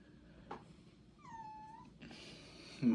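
A pet cat cries in a room where guitar is played: a short, faint, wavering meow-like wail rises over quiet room noise, with a few soft bumps around it.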